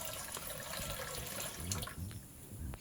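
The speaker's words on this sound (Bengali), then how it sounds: "আমি চুলায় কড়াই বসিয়ে দিয়েছি এবং এর ভিতরে পানি দিয়ে নিচ্ছি" Water being poured into a pan set on the stove, a soft running, splashing stream with small drips, faint and close, with no talking.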